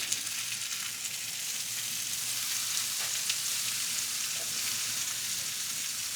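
A big piece of salmon sizzles over an open fire, a steady, fairly quiet crackling hiss that runs without a break and has no voices over it.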